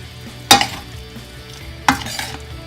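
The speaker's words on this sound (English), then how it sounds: "Give that a nice stir." Two brief scraping clanks of a spoon against a pot as shrimp in pimento sauce are stirred, each followed by a soft low simmer, with no talking.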